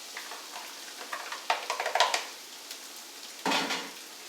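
Chopped onions hit a pan of melted butter for cornbread stuffing, with clattering utensils and stirring first and then a sudden sizzling burst near the end, close and moderately loud.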